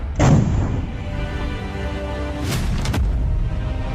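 A heavy artillery boom bursts out early, followed by a rolling rumble, then a second sharp crack near the end, loud and close.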